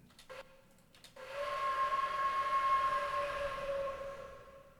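Plain sampled wood flute heard dry without the B2 reverb, a couple of short breathy notes followed by a long sustained tone that holds steady and tapers; faint, no speech.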